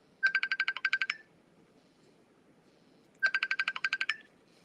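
A phone rings with an incoming call: two clear bursts of rapid electronic trill-like ringtone pulses, separated by a couple of seconds of near silence, moderately loud and close.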